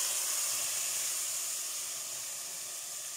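Onion, garlic, ginger and green chili paste sizzling in a hot pan for a Punjabi-style soybean and potato curry, an even hissing sizzle that fades slightly over a few seconds, with no voices.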